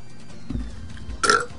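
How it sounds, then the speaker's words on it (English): A single throaty burp from a man during live Pokémon Black & White battle narration, low and rumbling up close, with a brief burst near its end, otherwise nearly alone. "Okay, excuse me for the burp."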